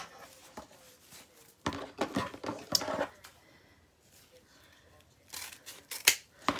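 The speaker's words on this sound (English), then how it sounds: "So we're just going to cut that on each seam." Scissors snip through fabric strips at each seam of a pancake wreath, giving bursts of close, crisp cuts in two clusters with quieter handling between them and no talking.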